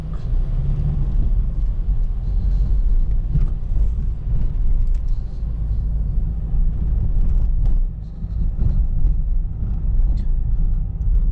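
A car pulls away from a stop during a driving test, its engine a steady, loud low rumble with road noise from inside the cabin. The sound stays continuous throughout with only a brief dip.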